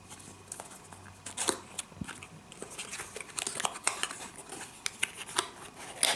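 Unboxing of a USB Type-C charger: close crinkling, rustling and sharp snips or tears of packaging in irregular bursts, with a couple of light knocks.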